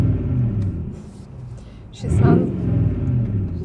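Low throbbing exhaust rumble from a Lexus GX470 fitted with a straight pipe, idling deep then swelling as the engine is revved, with people talking over the drone.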